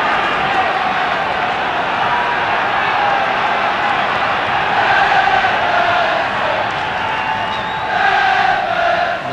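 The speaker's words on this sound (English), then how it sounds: "Goodison Park crowd now trying to raise their side." A football crowd at Goodison Park roars and cheers continuously during an Everton v Walsall FA Cup fourth-round match, a dense, sustained wash of voices with swells, loud and enveloping throughout.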